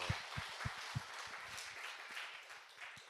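A church congregation applauding during worship, with a few sharp, distinct claps at first that give way to a soft, distant wash of clapping.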